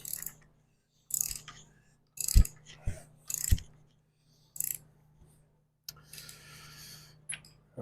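A Mopar LA360 V8 being turned over by hand after its rod bolts are torqued, producing scattered metallic clicks and ratcheting knocks in short separated bursts, close and fairly quiet.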